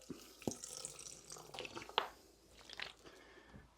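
A little water poured into a jambalaya pot on a Trangia camp stove, heard as brief splashes and drips with a faint sizzle, low and close.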